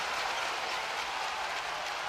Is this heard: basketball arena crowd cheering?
yes